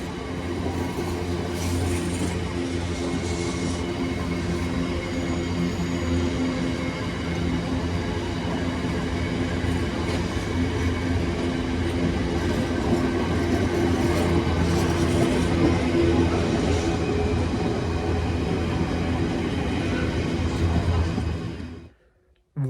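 A long freight train rumbles past steadily for about twenty seconds near Coventry, wheels clacking and metal squealing faintly, before the sound cuts off.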